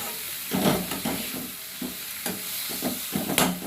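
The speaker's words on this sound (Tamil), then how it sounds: "இப்போ நம்ம தனியாக வதக்கணும் பார்த்தீங்களா முள்ளையும் கருவேப்பிலை இதோட சேர்த்துட்டு" Radish, onion, tomato and curry leaves sauté in a hot pan, giving a steady close sizzle and hiss broken by repeated stirring scrapes, with no talking.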